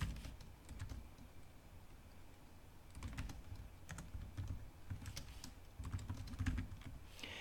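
Someone types on a computer keyboard, producing quiet, close, irregular clicks in bursts with short pauses between them.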